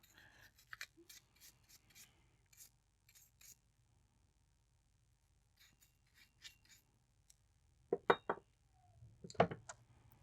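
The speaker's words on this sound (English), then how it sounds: "Give them a little scrub around there just to help it out in a second with the cleaning" A brush scrubs stripped-down carburetor parts from a Honda CB350 in short, quiet bursts of bristly scraping, with pauses in between and a louder flurry near the end.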